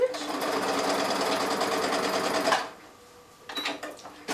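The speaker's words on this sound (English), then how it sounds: "I'm going to backstitch." A sewing machine backstitches along a tulle skirt, a close, rapid mechanical whirr running steadily for a couple of seconds before stopping, followed by a few light clicks and handling noises.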